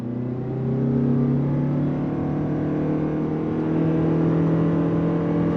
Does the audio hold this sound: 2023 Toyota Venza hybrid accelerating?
yes